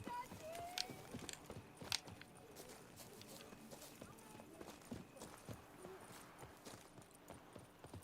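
Horses galloping in The Witcher 3: Blood and Wine, with a steady run of hoof clip-clops under game music and voices, fairly close throughout.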